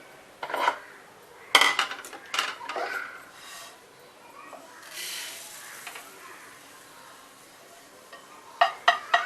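Metal clinks and scrapes in a few bursts as roasted sesame seeds are transferred into a metal pot with a spoon, with quieter gaps and a final cluster of clatters.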